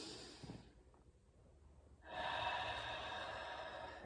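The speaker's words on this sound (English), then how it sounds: "I want to breathe in through my nose" A slow, deliberate breath drawn in through the nose during a seated chair-yoga stretch, a soft close inhale rising after a quiet pause and holding steady.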